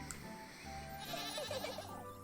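A goat in the game Little Goody Two Shoes gives a wavering, quavering bleat, moderately quiet over a steady background music bed.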